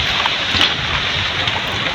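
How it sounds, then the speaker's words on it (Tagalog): Steady rain falls over an outdoor area at midday, heard from an upstairs spot, as a dense, even hiss that holds constant through the whole stretch with no voices. "Umuulan!"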